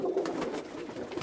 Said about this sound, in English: This is one family of birds right here.